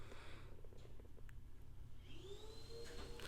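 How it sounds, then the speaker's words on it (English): A vacuum cleaner runs in another room of a house, a faint steady drone with a soft rising whine near the end, heard alone in the background. "I hope you guys can't hear the vacuum in the background."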